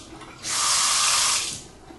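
A bathroom faucet fitted with an aerator runs briefly, a soft hissing rush of water that turns on, flows steadily for about a second, then shuts off.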